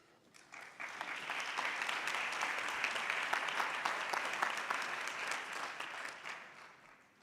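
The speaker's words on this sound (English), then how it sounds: "let's give one more round of applause to all of our award winners." Applause from an audience at a State Bar of Georgia annual meeting swells quickly after a quiet start, holds as sustained clapping for several seconds, then tapers off.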